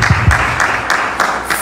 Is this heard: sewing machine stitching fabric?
no